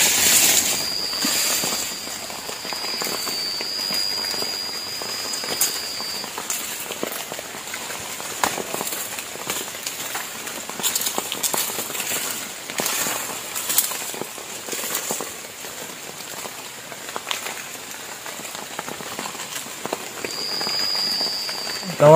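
Steady rain falls on a camp shelter deep in a forest, a constant dense patter with scattered louder drips, close and even throughout, with a faint high insect-like whine coming and going.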